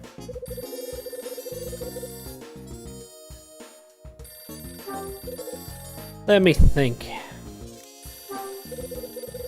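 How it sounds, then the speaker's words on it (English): A phone rings in the video game Last Window: The Secret of Cape West, its synthesized ringtone rising over looping game music and cutting in loudly for a moment while a voice talks. "My phone again."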